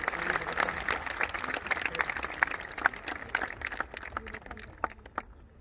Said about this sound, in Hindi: जोरदार तालियां एक बार अपने लिए।